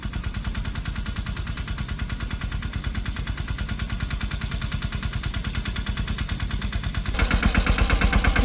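A full-size farm tractor, not a mini model, runs during mung bean sowing with a steady, rapid thumping engine beat that holds even, then swells louder and heavier near the end.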